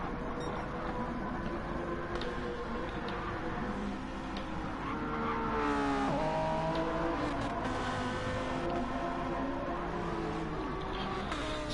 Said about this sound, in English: great overtaking here by the hypercar against a company car